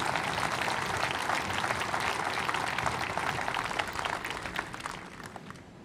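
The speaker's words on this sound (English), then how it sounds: "So I think that really deserves a round of applause." Loud, dense applause from a large audience, a sustained crackle of many hands clapping that holds steady for several seconds before tapering off slightly at the end.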